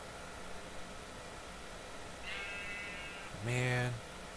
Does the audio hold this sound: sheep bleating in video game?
yes